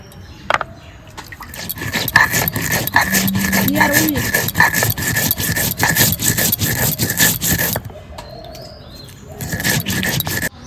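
Cumin paste being ground by hand on a traditional grinding stone, a steady rhythmic rasping scrape of stone on stone that runs for several seconds, close and fairly loud, then stops briefly before starting again.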